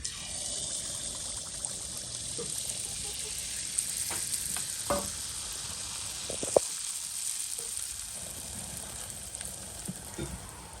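Oil pitha batter frying in hot oil in a kadai gives a steady, close sizzle throughout, with a few soft knocks and stirring sounds along the way.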